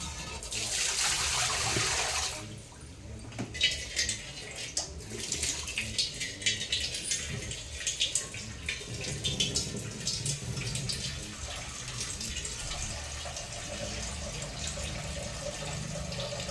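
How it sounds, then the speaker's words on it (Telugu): Water is poured into a cooking pot for a leafy greens curry. A loud rushing stream lasts about two seconds, then gives way to quieter splashing and trickling, with no talking. "మనం ఇలా కొన్ని వాటర్ పోసుకుందాం"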